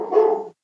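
A dog at home gives a single short, loud bark that cuts off abruptly.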